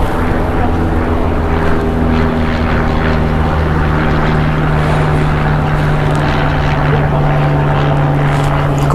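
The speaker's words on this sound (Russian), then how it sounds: "Класс, самолет" A loud, continuous droning engine roar with steady propeller-like hum, sustained throughout without pause.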